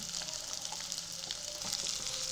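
Chopped onion sizzling in hot oil with garlic on a medium gas flame, a steady close crackling fry with faint stirring, no talking.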